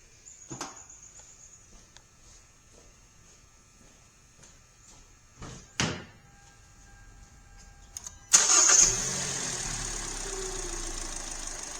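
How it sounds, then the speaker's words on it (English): A Hyundai car with a cylinder misfire sits quiet apart from a few sharp clicks, then its engine cranks and catches, settling into a steady, fairly loud idle. "I'm going to go in here and start the vehicle."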